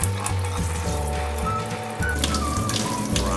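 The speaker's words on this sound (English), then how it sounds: "It's time to take them out and rinse them off." Tap water runs steadily into a sink as brined whole bonito fish are rinsed off, a close, continuous splashing wash with small changes as the flow is disturbed; nobody talks.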